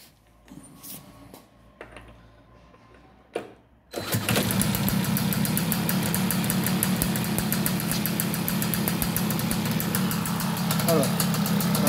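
A scooter engine fitted with a Giannelli City Power expansion exhaust starts up after a few seconds of quiet handling noises, then runs steadily and loudly, revving slightly, with a constant close-up drone through to the end.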